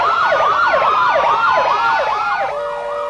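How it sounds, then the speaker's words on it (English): Loud wailing sirens of police and emergency vehicles leading a procession sweep up and down in overlapping rhythmic cycles, close by, with a steadier siren tone taking over near the end. "the half-dozen police and emergency service vehicles leading the procession with all sirens blaring"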